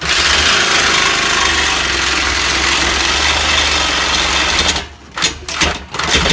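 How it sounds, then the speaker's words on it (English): Power saw cutting through the exhaust pipe of an Audi B5 S4 under the car, a steady loud rasping buzz for about five seconds before breaking into short bursts and pauses. "we're just sawing off the exhaust"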